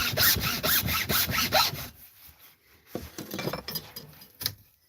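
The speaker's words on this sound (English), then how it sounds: "So I just sawed through here." A hacksaw cuts through a rifle barrel with a quick series of rhythmic, rasping back-and-forth strokes, then pauses before a few slower, scraping strokes and a light metallic clink, close and fairly quiet.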